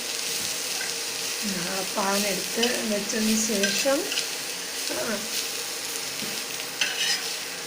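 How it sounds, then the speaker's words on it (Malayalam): Dried prawns frying in a pan, a steady close sizzle with stirring scrapes running throughout while a person talks over it. "ഞങ്ങൾ ഉണക്കക്കൊഞ്ച് വറുക്കുകയാണ്"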